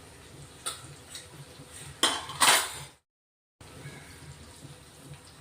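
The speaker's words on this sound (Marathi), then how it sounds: "मिक्स करून घेतोय आता, हे बघा. छानपैकी मस्त मिक्स करून घ्यायचं." Spices being mixed into leftover chapati pieces in a pan with a metal spoon, making close clinks and scrapes over a low cooking hiss, with one louder scraping burst and a short cut to silence.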